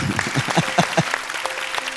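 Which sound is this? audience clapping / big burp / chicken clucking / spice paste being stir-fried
audience clapping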